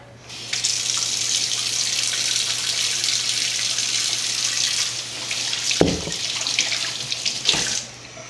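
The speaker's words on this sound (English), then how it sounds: "Let me drain out some of this water here." Water pours steadily from a chicken breast package into a kitchen sink, a continuous close hiss and splash lasting several seconds, with a couple of brief thuds near the end.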